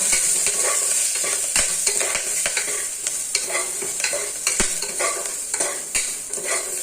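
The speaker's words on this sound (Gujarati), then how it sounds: "સંભારો એડ કરવાનો પછી એને તેલમાં ફેરવવાનો" Carrot and green chili sambharo, Kathiyavadi style, is stirred in hot oil in a pan, with a steady loud sizzle under repeated scraping spoon strokes and no talking.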